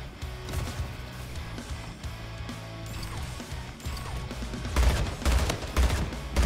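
An assault rifle fires in the Splitgate shooter: rapid bursts of sharp cracks over a busy, dense game mix, growing louder and heavier toward the end.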